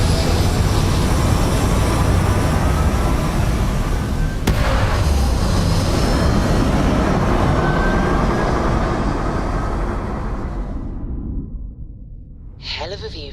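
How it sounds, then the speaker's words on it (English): Spaceship thrusters firing in the sci-fi game Starfield: a loud, dense roar that holds steady for about ten seconds, then fades and drops away, with a brief crackle near the start and a short hiss at the end. "All thrusters firing."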